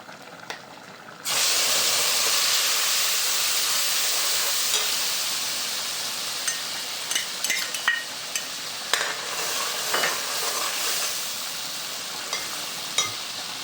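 Spices tipped into sizzling onions frying for soybean biryani give a steady, close hiss that jumps up sharply and stays loud, broken by a few light stirring scrapes against the pan.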